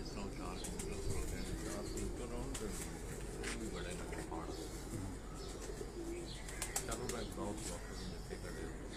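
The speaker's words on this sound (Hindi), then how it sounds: "कमाल के ब्रीडर कबूतर हैं उस्ताद सफदर इकबाल साहब के" Heera laal pigeons from a breeder's loft coo and rustle in a steady, busy chorus with a few wing flaps, heard close over continuous background noise.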